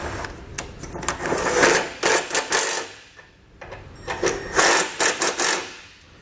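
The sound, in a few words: tightening running board bolts with a 13mm socket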